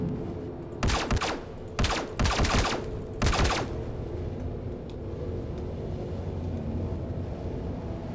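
Bursts of automatic gunfire in the video game Star Citizen, several loud sharp volleys in quick succession over a few seconds, then a lingering low rumble and hum of ambience with no further shots.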